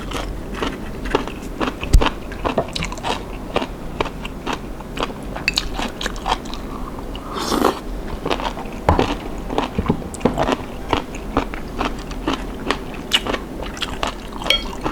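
Crunchy chewing of jellyfish salad dressed with sesame oil, with steady close-up bites and crunches repeating throughout and no talking.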